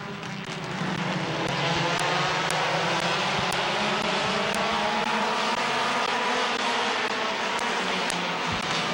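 Race cars at Midvale Speedway roar around the track under green flag racing, a loud continuous engine drone that stays steady and close throughout, with no talk.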